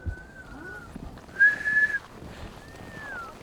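A person whistles three separate thin, sustained notes under the aurora in Canada, the middle one loudest, with faint wind and outdoor background noise between them.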